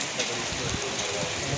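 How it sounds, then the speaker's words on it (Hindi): Heavy rain pours outdoors in a steady, dense hiss with scattered drops and patters close by, continuous through the short stretch. "फिर देखिए आहा क्या बारिश हो रही है"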